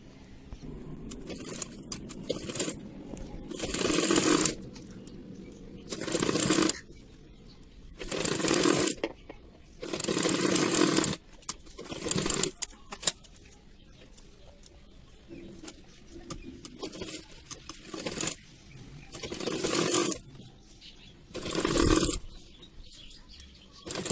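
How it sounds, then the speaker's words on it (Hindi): A sewing machine stitches along the edge of a puff-sleeve blouse sleeve in repeated bursts of whirring, a few seconds each, separated by pauses for turning the fabric, close and fairly loud. "यहाँ पे एकदम किनारे से हम सिलाई करेंगे, उसके बाद पलट के हम सिलाई करेंगे।"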